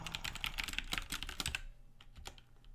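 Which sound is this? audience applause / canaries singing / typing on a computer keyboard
typing on a computer keyboard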